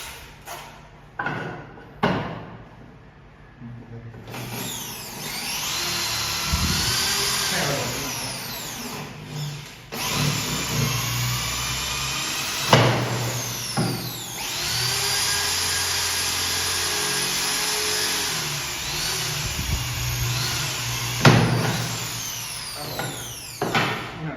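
Loud hammer drilling into concrete in several long bursts with short pauses between, a harsh grinding whine close by, no talking.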